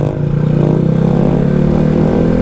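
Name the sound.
Honda Grom motorcycle revving during a wheelie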